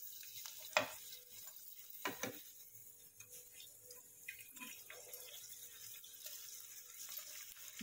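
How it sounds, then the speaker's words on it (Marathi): Poha kurdai drop into hot oil and fry with a soft, close sizzle, while several sharp knocks and scrapes of a utensil stand out over the quieter bubbling, and no one speaks. "आता बघायचं आहे तेल गरम झालेलं आहे. आता आपण कुरडी तळून बघूया."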